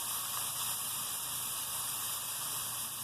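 Bleu wagyu New York strip steak searing on its fat edge in a hot pan, a dense continuous hiss and sizzle, close and loud, steady for the whole short stretch with no voices.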